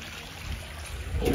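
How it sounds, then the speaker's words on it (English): Water features at the entry of a house trickle softly and steadily in a brief, quiet stretch of flowing water. "To your entry, cool water features."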